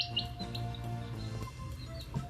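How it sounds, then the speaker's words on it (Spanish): A chick peeps in a quick series of high, thin chirps played as an animal sound guessing game, steady and fairly faint over a low background hum. "Pollito. Muy bien."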